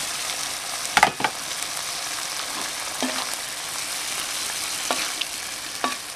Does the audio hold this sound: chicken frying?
yes